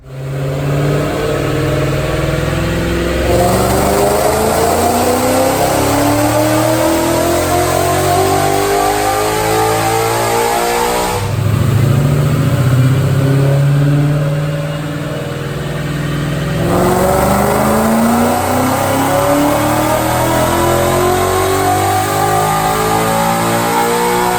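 Supercharged 2013 Ford Mustang Roush California Special with a Brenspeed 650R upgrade, engine roaring on a dyno through long rising revs, loud and close, with a brief drop between pulls and no talking.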